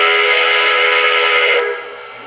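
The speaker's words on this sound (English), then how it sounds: "Pennsylvania Railroad K4." Pennsylvania Railroad K4 steam locomotive whistle reproduced by a TCS WOW heavy steam sound decoder, a single loud, steady chime blast that cuts off and fades near the end, heard alone.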